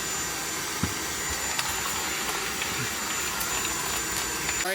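An Inteture cordless vacuum cleaner runs with a steady, even whine while sucking up nuts and bolts, with faint scattered clicks and rattles from small metal parts.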